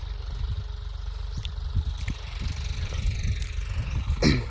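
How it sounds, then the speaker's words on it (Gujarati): A tractor draws near in a peanut field during groundnut harvesting, giving a low, steady engine rumble that swells slightly, with a few scattered knocks and clicks and no talking. "છે ટ્રેક્ટર નજીક આવેલું આવે છે"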